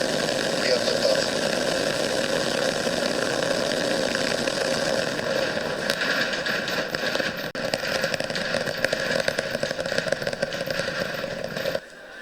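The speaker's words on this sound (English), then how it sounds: "We have liftoff." A SpaceX Starship with its Super Heavy booster lifts off, a continuous broad, crackling roar that holds steady at full strength and then cuts off abruptly near the end.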